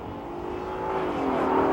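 A 1994 BMW 540 engine accelerates, a smooth rising drone that grows steadily louder over a couple of seconds with no voices.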